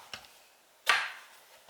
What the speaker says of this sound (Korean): 가지의 대가리 부분을 잘라주세요.